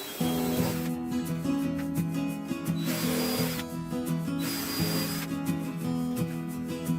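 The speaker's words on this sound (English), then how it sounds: "pre-drill my holes with a countersunk drill bit" A power drill with a countersink bit whirs in several bursts, its motor rising and falling as it bites into wood, with short pauses between runs.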